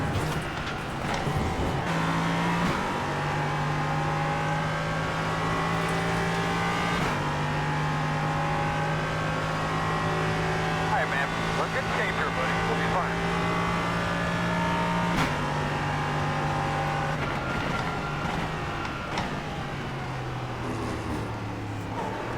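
An LMP3 prototype race car engine at VIR in iRacing drones steadily and loud for over twenty seconds, its pitch stepping through repeated upshifts and downshifts with brief lifts between long sustained pulls.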